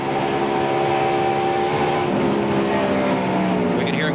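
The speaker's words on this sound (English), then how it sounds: "We can hear him getting right out of the throttle." Onboard a stock race car at the 1996 MBNA 500, the engine drones loud and steady, its pitch sliding gradually lower as the driver lifts off the throttle, with no talking.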